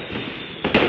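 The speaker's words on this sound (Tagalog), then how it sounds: "Talagang inuubos nila ngayon yung paputok nila." A firecracker goes off on the last night of Chinese New Year: a steady crackling hiss, then a sharp pop and a louder burst near the end, moderately close and with no voices.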